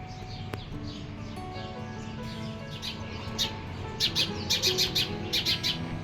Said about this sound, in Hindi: चिड़िया एवरी मॉर्निंग आती है और अपना चू चू चू चू का जो गाना है वो हमेशा बजाती है